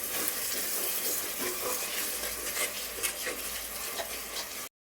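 Tomatoes with turmeric and salt sauté in a clay pot, a dense, continuous sizzle and crackle with stirring scrapes, close and steady until it cuts off.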